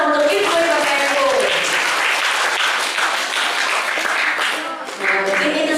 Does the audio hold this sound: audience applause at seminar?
yes